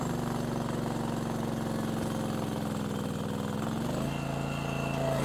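A hydraulic log splitter runs steadily while splitting a pumpkin against a slab of maple, a loud droning engine with a pitch shift partway through.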